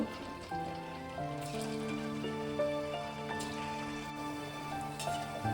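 Chhana goja, soft cottage-cheese sweets, frying in hot oil, a continuous close hiss and fine crackle with steady bubbling, alone under a faint background tone.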